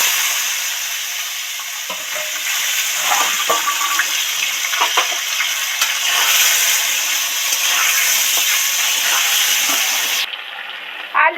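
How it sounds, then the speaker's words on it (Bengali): Large chunks of potato deep-frying in hot oil with five-spice seeds, a steady loud sizzle filling the clip, with scattered stirring clicks and scrapes, before the frying cuts off near the end. "এবার এই বড় বড় টুকরো করা আলু কটা তেলের মধ্যে দিয়ে দেব।"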